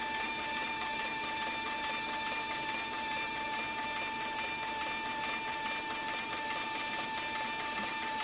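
Heavy-duty saddlery sewing machine running steadily for saddle and harness work, a continuous mechanical whir with a constant high whine and rapid even stitching rhythm throughout, fairly quiet and alone.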